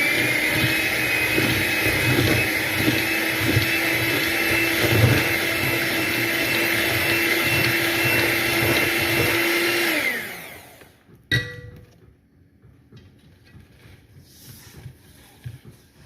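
Electric mixer beating apple cider whoopie pie batter, a steady loud whirring drone for about ten seconds that winds down and stops, followed by a brief clunk and quiet kitchen sounds.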